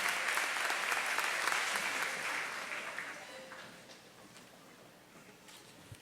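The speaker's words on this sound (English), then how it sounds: "Please join me in giving these students a round of applause." An audience at a 2016 high school honors ceremony applauds honored students, dense steady clapping that gradually thins and fades toward a few scattered claps at the end.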